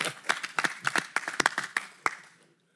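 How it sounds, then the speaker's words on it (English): A small group at a flood control agency board meeting claps briefly, a sparse scatter of distinct hand claps that thins out and fades after about two and a half seconds. "Round of applause."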